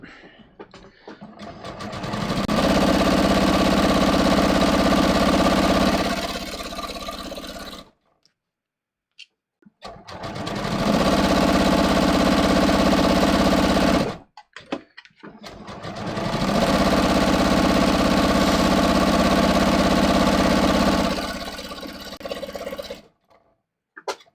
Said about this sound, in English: now I'm just going to sew them together a little bit to show you